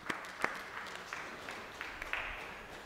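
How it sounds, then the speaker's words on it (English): A church congregation claps for Noah during a sermon on the days of Noah: scattered, uneven handclaps, fairly faint and spread through the room, with a few sharper claps standing out. "Can we just clap our hands for Noah right now?"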